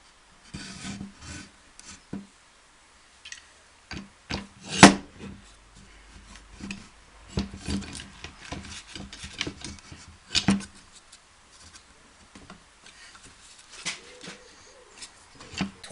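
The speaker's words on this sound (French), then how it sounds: "je découpe le dernier morceau pour l'établi" Wood being cut by hand for a workbench: intermittent rasping, scraping strokes with short pauses and a sharp knock midway, close and moderately loud, with faint bird cooing in the background.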